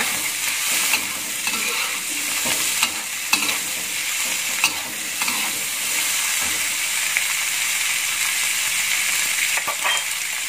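Sausage pieces stir-fried in a hot pan for an oseng dish, with a steady, close sizzle and the scrape and clatter of stirring throughout, with no talking.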